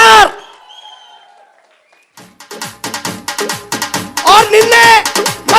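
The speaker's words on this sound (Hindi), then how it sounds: "सभी लोग एक बार खड़े होकर हल्ले के साथ जोरदार ताली से निर्णय लिया है सर" Audience at an Indian gathering rising to its feet and breaking into loud, sustained clapping with cheers, building after a near-silent pause and swelling toward the end.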